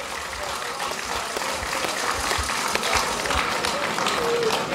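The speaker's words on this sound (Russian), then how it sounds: "Аплодисменты!" Applause from an audience at an Afghan war veterans' gathering, a sustained wash of many hands clapping that grows slightly louder, with faint voices and stray sounds mixed in.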